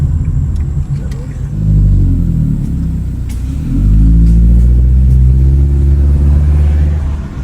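A car drives uphill on the road to a waterfall in Palau, its engine a loud, steady low rumble that swells as it climbs, heard from inside the vehicle with brief talk.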